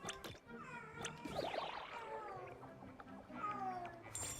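A pet cat meows several times, drawn-out, wavering calls fairly faint and close, with some quiet background noise and possible voices.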